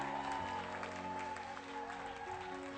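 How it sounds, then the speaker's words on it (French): Church congregation applauding during a service, a faint dense wash of clapping under sustained organ or keyboard tones, steady throughout. "Applaudissez-moi, c'est Jésus avec des cris de joie."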